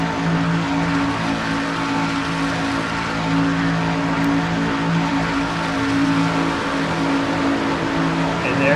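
Race car engine at full throttle heard from inside the cockpit at Daytona during an IROC-style series race, a loud steady high-rpm drone with strong harmonic tones holding constant for the whole stretch.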